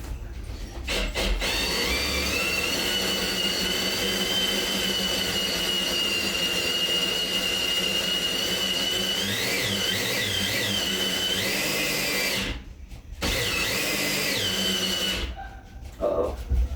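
A power drill runs almost continuously, boring a hole through the plastic wall of a 100-gallon detailing water tank. Its steady whine holds loud and close, with brief pauses where the bit stops.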